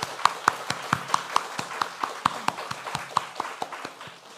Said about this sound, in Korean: 우리 교회를 사랑하셔서 이런 축복을 허락하신 하나님께 감사와 영광의 박수를